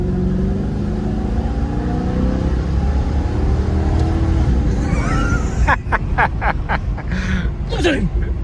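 A car engine, likened to a Ferrari F430, revs steadily in the mid range as people talk over it, then bursts of loud revving climb near the end.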